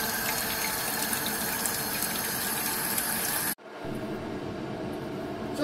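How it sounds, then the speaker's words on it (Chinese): Guilin chestnuts being rinsed under a running kitchen tap, a steady close hiss and splash of flowing water that cuts off briefly near the end, then resumes. "第一步，我哋将佢清洗干净。"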